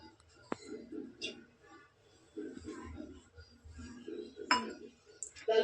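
Oil is poured into a kadhai while cooking shepu (dill) bhaji, with several light metallic clinks of the pan and utensils over soft murmuring voices in a quiet kitchen.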